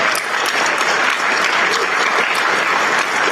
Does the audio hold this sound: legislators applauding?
yes